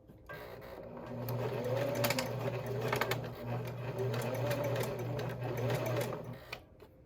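A home sewing machine stitches a dart on a nursing-friendly bra, a close mechanical whir running in short and long bursts with a brief stop midway, faint talk beneath it.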